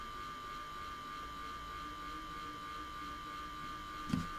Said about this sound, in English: So right now all I can really hear is the power supply.